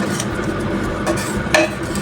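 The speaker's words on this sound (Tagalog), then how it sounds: "Haluin lang po natin at huwag hayaang masunog hanggang mag-brown ang ating desiccated coconut." A spatula stirs desiccated coconut and sugar in a pan, toasting it until brown for Filipino sapin-sapin; a steady close scraping runs throughout, with a couple of sharper clinks against the pan.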